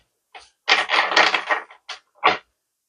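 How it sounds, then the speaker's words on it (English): Tarot cards are shuffled by hand in several quick, close riffling bursts, one long flurry followed by a few shorter ones, with brief pauses between. "Let me shuffle your cards."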